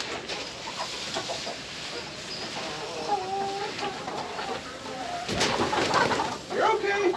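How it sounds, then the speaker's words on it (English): Penned chickens cluck and murmur steadily at close range, a busy flock of new birds with occasional louder squawks near the end, while a person talks faintly nearby. "This new batch of chickens that we've got in, they're finally starting to get a little bit more comfortable with us."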